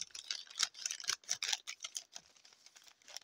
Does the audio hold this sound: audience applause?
no